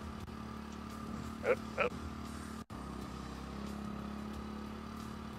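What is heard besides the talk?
motorcycle engine in Apocalypse Rider video game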